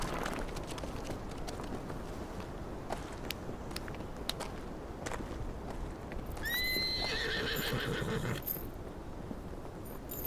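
A horse whinnies loudly at about six and a half seconds, its calls rising over a steady clip-clop of hooves and outdoor background noise, with no talking.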